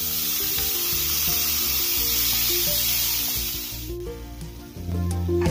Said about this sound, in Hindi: मसाला फ्राई हो गया है, अब इसमें हम गोभी जिसे ग्रेट किया है उसे डाल देंगे।